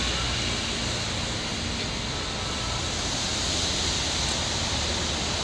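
Rain pours steadily on a city street in Osaka, Namba Dotonbori, in December, a dense, constant hiss filling the space with no breaks and no voices.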